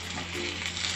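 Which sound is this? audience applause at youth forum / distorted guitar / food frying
food frying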